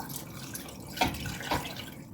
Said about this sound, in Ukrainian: наливаю води.